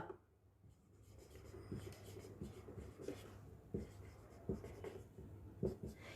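Pen or chalk writing out a formula for the area of a parallelogram during a Class 8 maths lesson, heard as a run of scratchy strokes and taps with brief pauses, fairly close and steady over low room noise.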